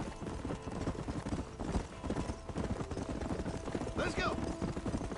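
Horse hooves clip-clop steadily in a fast gallop in the Western video game Red Dead Redemption, close and continuous, with a brief whinny near the end and a voice speaking over the riding.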